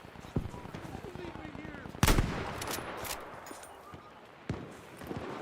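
Bursts of machine gun fire on a beach in the video game Battlefield 5, sharp loud cracks at intervals over a background of distant battle noise, with a player talking.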